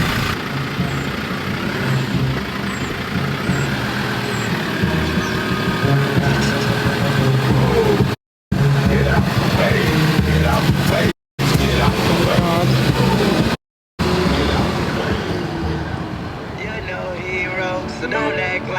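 A Ford Ranger DV8 Edition pickup truck engine runs steadily and loudly as it pulls away in drive, its low rumble continuous throughout with people talking over it.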